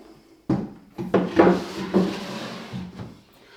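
Homemade wooden tool drawer slid open and shut several times, giving close, moderately loud knocks and short scraping rubs of wood against wood with no voices.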